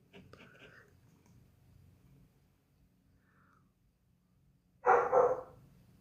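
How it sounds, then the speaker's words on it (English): A dog outside lets out a short, loud burst of barking near the end, after a stretch of quiet with soft whispering early on. "I'm about to go get this dog now. He's barking outside."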